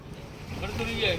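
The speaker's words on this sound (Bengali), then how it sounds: "এই আমরা ফেওয়া লেকে বোটে করে ঘুরছি।" Tourist rowboat on Phewa Lake in Pokhara, Nepal, carrying about ten passengers. Lapping water and steady wind buffeting the microphone make a low, continuous rumble through the short stretch.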